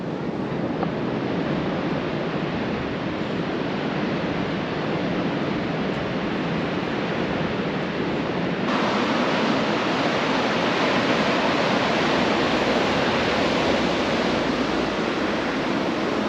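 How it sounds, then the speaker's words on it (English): Ocean waves break on the shore at Scarborough where surfers are out, producing a loud, steady wash of surf mixed with wind rumble throughout, with no voices. "There's some good waves, but there's plenty of them out there."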